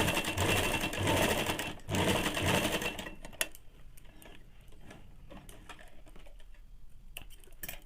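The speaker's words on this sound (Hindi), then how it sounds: "फिर इस तरह से इलास्टिक को सेट करके पूरे में मशीन चला लेंगे।" Sewing machine stitching elastic into the back waist of ladies' pants, running loud and continuous for about three seconds with a brief pause, then dropping to quieter intermittent clicks and handling noises.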